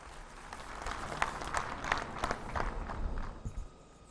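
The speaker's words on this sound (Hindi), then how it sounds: "दोस्तों, जोरदार तालियों से स्वागत करें।" Crowd at an outdoor public meeting in Sissu, Lahaul Spiti, Himachal Pradesh, welcoming Prime Minister Modi with fairly faint, scattered clapping and some shuffling that swells then fades out.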